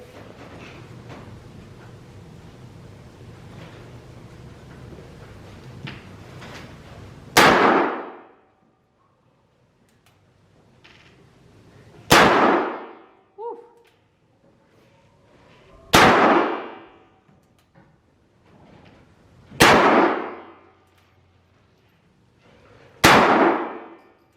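Five loud, sharp gunshots ring out about four seconds apart from a newly fitted, never-zeroed gun in a .22 versus .357 comparison, each blast followed by a short decaying echo with near silence between.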